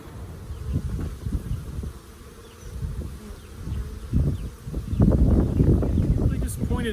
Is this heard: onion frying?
no